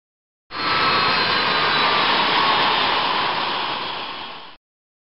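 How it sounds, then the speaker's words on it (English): Boeing 737NG jet engines spooling down in a computer-based training simulator, a steady loud broadband roar that swells in and then tapers off over about four seconds before stopping abruptly. "Now, shut down the engines by touching the start levers on the idle stand."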